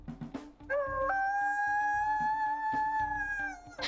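A single long, steady wolf howl from the video game WolfQuest Wayfinders swoops up and holds a high tone for a few seconds before tapering off, over a soft rhythmic background.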